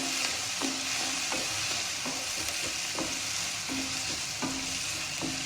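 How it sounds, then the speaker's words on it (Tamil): Carrots, beans and green peas sautéing in a pan, a steady close sizzle punctuated by regular scraping strokes of a spoon stirring, with no talking. "கேரட், பீன்ஸ், பச்சை பட்டாணி இது மூணையுமே இப்படி போட்டுக்கோங்க. போட்டுட்டு நல்லா இப்படி வதக்கிக்கணுங்க."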